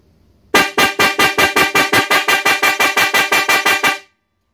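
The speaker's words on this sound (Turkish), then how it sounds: "Ses şiddetinde belli olacağı gibi arkadaşlar kornamız gayet başarılıdır." A Mitsuba snail-type electric car horn blaring in rapid repeated bursts, about sixteen loud, sharp toots in a steady rhythm, close and clear, then it stops.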